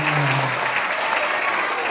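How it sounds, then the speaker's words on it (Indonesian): Primary schoolchildren applaud at an Isra Mi'raj school gathering, a dense wash of close clapping over two seconds with a brief voice at the start. "Tepuk tangan dulu teman-teman"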